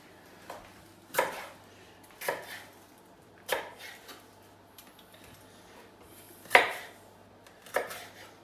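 A knife chops peppers on a board in separate, irregular strikes, about eight sharp close thuds spaced roughly a second apart, with a low steady hum behind them and no talking.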